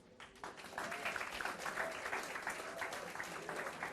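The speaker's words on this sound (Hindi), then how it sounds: "Chapter number 1 is over. बजाओ ताली।" Steady, dense applause from students in a business communication lecture, marking the end of chapter one; faint and distant, rolling on without a break.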